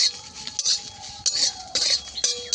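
A metal spoon clinks and scrapes against a pan several times while spices are added for a raw mango dish, with bright, close taps at irregular intervals over quiet kitchen background.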